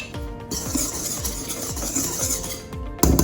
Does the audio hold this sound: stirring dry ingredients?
yes